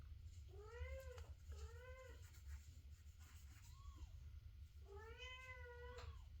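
A cat meowing indoors late at night, three long drawn-out, rising and falling meows and one shorter one, fairly faint over a low steady hum.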